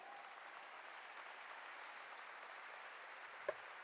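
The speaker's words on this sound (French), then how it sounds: "Come on, clap for Him." A church congregation claps during a worship service, a faint, steady wash of applause that holds evenly throughout, with one brief sharper tap near the end.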